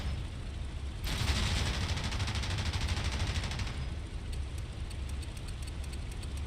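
A Spitfire's machine guns and cannon fire in a flight video game, a rapid rattling burst of about three seconds followed by quicker spaced shots over a steady engine drone, with no voices.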